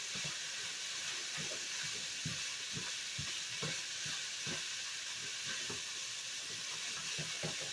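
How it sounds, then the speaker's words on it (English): Noodles stirred into meat frying in a pan, a steady hiss of sizzling with repeated scraping stir strokes in an uneven rhythm, close and fairly quiet, without talk. "So I'm going to start to work the noodles to the bottom of the pan and kind of bring the meat up"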